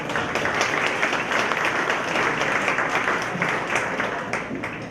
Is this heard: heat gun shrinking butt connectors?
no